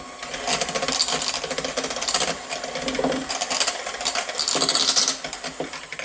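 An electric mixer whirs and rattles through pumpkin roll filling with vanilla extract, a continuous loud mechanical buzz with clattering beater noise that swells and dips slightly, heard alone without talk.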